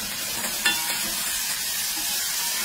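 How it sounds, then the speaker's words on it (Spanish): Garlic and chili sautéing in hot oil, a steady close hiss of frying with one brief scrape of stirring early on, no speech. "Luego agregamos el ajo y el ají. Este se sofríe por aproximadamente 2 minutos. Vamos revolviendo para que se te frite bien por ambos lados."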